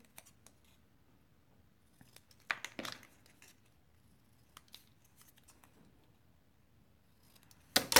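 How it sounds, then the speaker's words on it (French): Scissors snip a paper strip at an angle for a vintage baby-girl photo album page, giving a few soft, quiet cuts in a still room and a louder crisp snip at the end. "là, je viens couper en biais"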